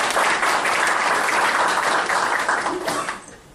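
An audience at a London health forum breaks into sustained applause to welcome a speaker, a dense wash of clapping that holds steady for about three seconds before tapering off.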